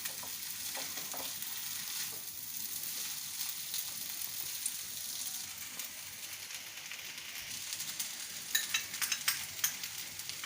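Sabudana tomato khichdi sizzling in oil in a pan while being stirred, a steady close frying hiss with scraping stirs growing busier toward the end.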